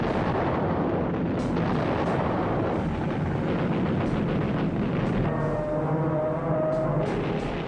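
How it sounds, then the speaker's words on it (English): Bomb exploding aboard the aircraft carrier USS Yorktown in World War II archival footage, a dense, rumbling roar of blasts and fire that fills the whole stretch, loud and continuous with low booming undertones. "But then she took a bomb which penetrated 4 decks before exploding."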